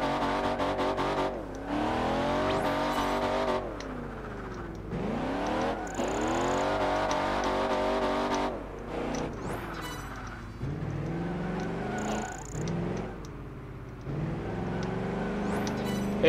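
Loud, close race car engine in Project Gotham Racing 4, repeatedly winding up through long gears with sharp drops at each shift and off-throttle dips into corners.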